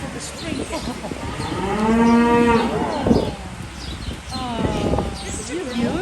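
Calves on a farm, one close, drawn-out moo swelling loud, then further shorter moos, with people talking nearby.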